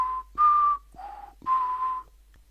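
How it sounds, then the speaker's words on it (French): Whistled tune of four sustained, steady notes separated by short gaps, clear and fairly close with no other sounds around it. "le sifflement."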